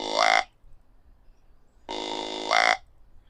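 A hand-held deer call imitates a buck's breeding bellow, giving two drawn-out grunts close up, each about half a second to a second long and ending in a rising, buzzy lift, with a clear pause between them.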